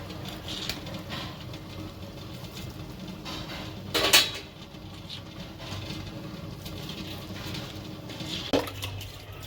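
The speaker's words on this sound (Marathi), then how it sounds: "आता मी हे बासमती तांदूळ घालून घेते कोपामध्ये" Basmati rice poured into a pot of boiling water for chicken biryani in a home kitchen, a brief rattling splash standing out over a steady bubbling wash, with a smaller clink near the end.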